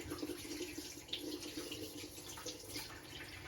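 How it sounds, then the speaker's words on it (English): Filtered water running from a reverse osmosis filter tap over produce being washed in a kitchen sink, a close, steady splashing stream with small shifting spatters as it hits the fruit. "I like to wash all of my produce in filtered water. So I'm using my reverse osmosis filter here."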